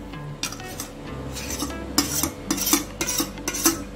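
A utensil scrapes and knocks repeatedly against a pan while mashed potatoes are stirred into a tempering for pav bhaji, in uneven bursts that grow busier toward the end.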